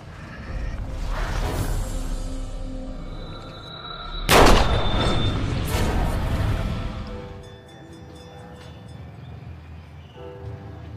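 A gunshot bursts out sharply amid a tense Indonesian action-film scene, one loud crack followed by a lighter second hit, set against rumbling music and sound effects, with no talking.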